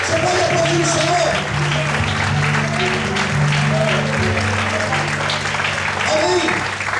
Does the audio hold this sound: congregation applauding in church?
yes